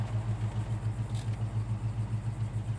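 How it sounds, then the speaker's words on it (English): A 1970 Pontiac GTO engine idling with a deep, lumpy rhythmic burble, pulsing steadily and close, with no one speaking. "Car idles fantastic. Real nice idle on the car."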